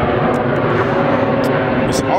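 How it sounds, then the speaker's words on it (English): An airplane coming in low overhead makes a loud, continuous roar that fills the short stretch evenly, with no break or fade. "It's always a plane coming in."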